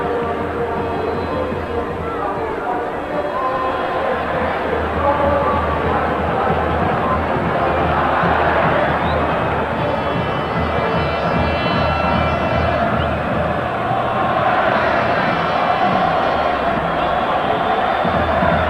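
Large football stadium crowd at the Rodríguez López during extra time of a Copa del Rey match between CD Tenerife and UD Las Palmas, a dense roaring wash of cheering that surges and ebbs, with a commentator's voice under it.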